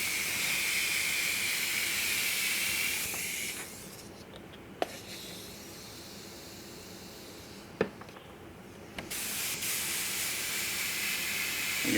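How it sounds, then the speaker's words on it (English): Spray paint mists lightly over a grey-skinned rhino sculpture in steady hissing bursts, pausing briefly between passes, close and fairly loud with no talking. "I'm just going to kind of mist it real light"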